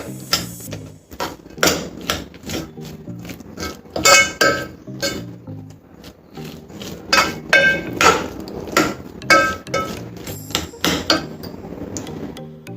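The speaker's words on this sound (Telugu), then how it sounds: "తీసుకొని ఇదంతా ఒకసారి ఇలా స్మాష్ చేసుకోవాలండి మెత్తగా" A spoon mashes cooked rice soft in a metal pot while sweet rice pudding is made, giving loud, repeated clanking knocks in an uneven rhythm, close up, with no talk.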